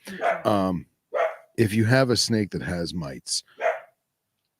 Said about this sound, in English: hold on, let me deal with this wiener dog